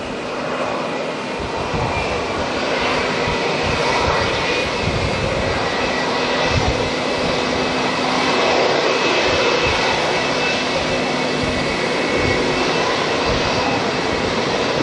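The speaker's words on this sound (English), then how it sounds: "China Southern A350-900 coming on in next to land on runway 23." A China Southern Airbus A350-900 jet landing on runway 23 at Auckland Airport, heard as a steady, loud broadband engine roar sustained throughout with no talk.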